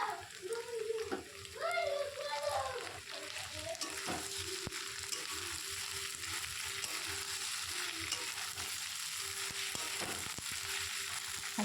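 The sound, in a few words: tomatoes and green chilies sautéing in a pan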